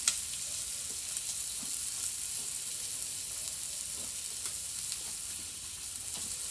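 Chuck steaks frying on a hot griddle give off a steady, close, even sizzle with faint crackles, and no voices.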